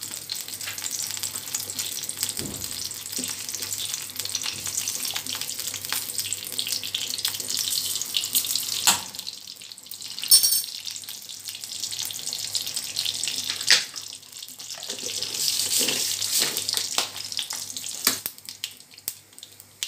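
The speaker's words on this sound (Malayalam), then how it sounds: "കടുക് പൊട്ടി തുടങ്ങി" Mustard seeds sputtering in hot oil in a home kitchen pan: a continuous hiss of frying with scattered sharp crackles and pops, steady and close, without talk.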